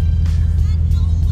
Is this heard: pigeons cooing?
no